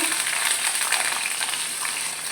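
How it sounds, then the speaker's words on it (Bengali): Vegetables including potato sizzle in a pan of panch phoron (five-spice) tempering for a drumstick-flower curry. The frying hiss is steady, loud and close, with no talk over it. "তো 5 ফোড়নটা দিয়ে এই যে সবজিগুলো আছে এইগুলো আমি ফার্স্টে দেবো।"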